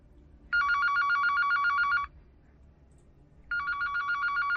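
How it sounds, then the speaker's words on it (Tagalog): A telephone rings loudly in two electronic trilling bursts, the first lasting about a second and a half, then a pause of quiet room tone before the ring starts again. "Narinig ang biglang pagtunog ng kanyang telepono."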